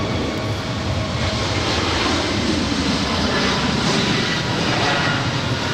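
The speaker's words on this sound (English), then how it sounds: "So that Hawaiian Airlines A330 that just came in from Las Vegas" A Hawaiian Airlines Airbus A330 arrives at LAX after a flight from Las Vegas, giving a steady, loud broadband jet roar that holds evenly throughout without any voices.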